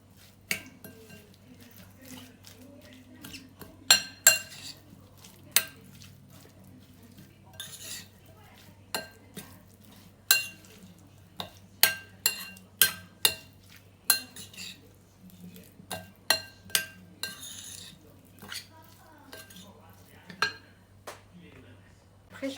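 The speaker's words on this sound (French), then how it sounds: "Donc j'ai mis le beurre et l'huile d'olive et je mélange tout." Butter and olive oil being mixed into a dough mixture in a bowl for Turkish cheese pizza, heard as scattered sharp clinks and taps of a utensil against the bowl over a quiet background, irregular and close.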